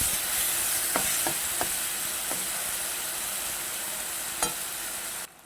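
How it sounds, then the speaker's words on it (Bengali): Potato and mourala fish frying in a pan, a continuous sizzle broken by several scraping stirs of a spatula, the last one louder. "একটা নাড়াচাড়া দিয়ে দিচ্ছি।"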